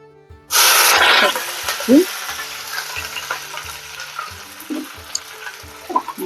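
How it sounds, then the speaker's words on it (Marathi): Mustard seeds hit hot oil for a Marathi-style tempering, bursting into a loud sudden sizzle that fades to a steady crackle with scattered pops and a few clinks of utensils. "मोहरी टाकूया"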